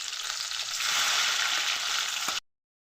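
Chopped green chili, cabbage and tomato fry for Maggi chowmein: a bright, hissing sizzle with faint stirring, close up, cutting off abruptly.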